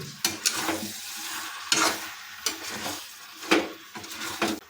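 Labra, a mixed vegetable curry with lentil dumplings and a little sugar, cooks on a low flame with a soft sizzle under repeated spoon scrapes and knocks against the pan, steady and close.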